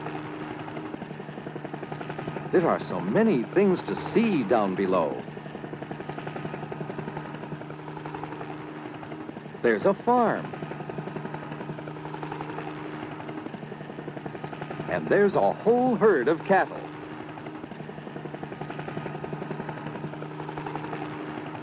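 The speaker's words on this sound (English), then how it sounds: "Right now, the helicopter is flying slowly, so Billy can get a good look at the countryside below" A helicopter flies slowly over farmland, its rotor and engine a steady, even drone throughout, while a narrator talks over it in several spoken passages.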